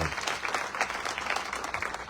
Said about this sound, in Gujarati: ફરીથી જોરદાર તાળી હતી